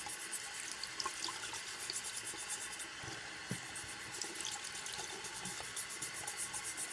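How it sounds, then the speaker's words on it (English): Running tap water rinsing naval jelly rust remover off a metal part, a steady, fairly quiet rush of flowing water with light splashing and no speech. "So just kind of use this and rinse it here"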